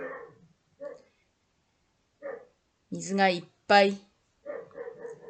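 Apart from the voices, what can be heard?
dog barking, unhappy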